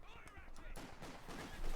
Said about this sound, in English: Pushing away with machine gun fire